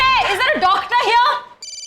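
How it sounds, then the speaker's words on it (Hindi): A phone ringtone cuts in right after speech, a short, steady electronic tone that sounds alone at the end, in an indoor drama scene in which someone urgently calls for a doctor. "प्रिया का फोन"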